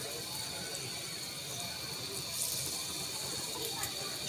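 Round semolina pitha fry in hot oil, giving a steady, close hiss and fine crackle that runs unbroken and fairly quiet, with a few slightly sharper sizzles toward the end.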